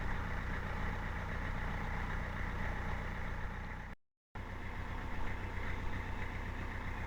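A boat engine, on a vessel stuck and being poled off, runs at a steady idle, a continuous low rumble that cuts out briefly partway through and then resumes.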